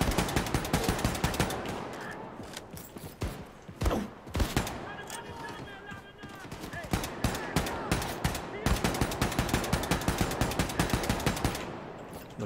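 Rapid bursts of automatic gunfire in the video game Wolfenstein II: The New Colossus rattle almost continuously, loud and close, with brief pauses between volleys.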